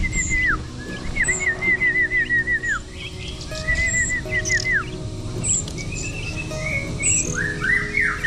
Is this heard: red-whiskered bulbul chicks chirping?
yes